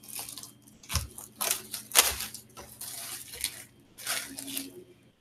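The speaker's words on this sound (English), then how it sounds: "I'm even using scissors this time." Scissors snip and slice through the packaging of a 2019 Diamond King trading card box in a series of close, crisp cuts and rustling bursts, with soft crinkling between them and no talking.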